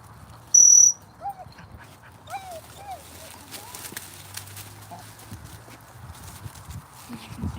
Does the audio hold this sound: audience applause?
no